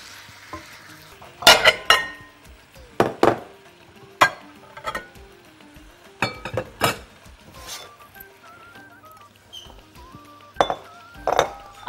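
Garlic sizzling in melted butter in a pot is stirred for shrimp mac and cheese, giving a steady soft fry with several sharp clinks and scrapes of a spoon against the pot in irregular bursts.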